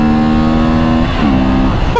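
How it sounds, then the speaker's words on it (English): A 2023 Honda Transalp XL750 motorcycle's engine buzzes hard against its rev limiter, a loud, close, sustained high-revving tone that stutters briefly and drops in pitch midway before climbing back up. "Rev limiter."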